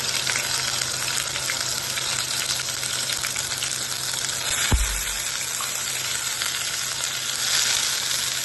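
Raw ground coconut masala paste is added to hot oil with a bay leaf for a Malvani pomfret curry, producing a loud, even sizzle with a sharp thump near the middle.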